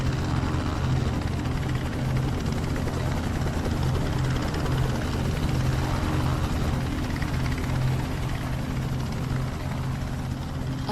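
A helicopter on an island helipad during the M/S Estonia rescue gives off a continuous, heavy rotor thrum with a rough throbbing pulse, loud and unbroken throughout.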